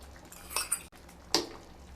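A metal spoon stirs garam masala, roasted cumin and coriander powder and ghee into khichuri in a pot, giving a few soft scrapes and clinks separated by short quiet gaps, close up.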